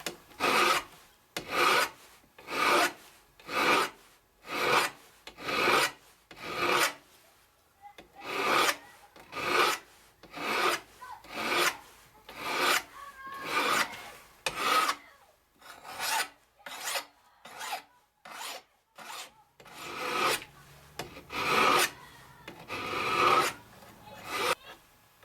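Steady rhythmic rasping of a hand file working the tip of a machete blade, with many regular close strokes repeating over a long stretch, briefly slowing in the middle before picking up again.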